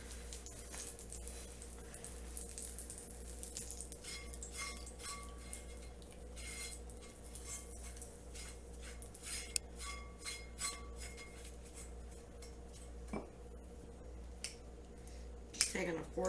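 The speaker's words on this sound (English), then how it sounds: "Just taking a fork and smashing it into the oil." A fork mashes ingredients into oil in a dish while lasagna and Sunday gravy are made from scratch, giving faint, scattered metallic clinks and scrapes over a low kitchen hum, with a louder knock near the end.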